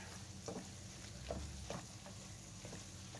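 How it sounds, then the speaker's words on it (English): Black pepper being stirred into goulash in a pan, a few soft scraping strokes and light stirring taps over a low, steady background hum. "I'll get that all nice and stirred up"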